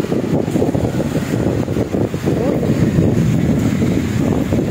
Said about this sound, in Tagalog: Sobrang lakas pa rin mga kabanding ng hangin.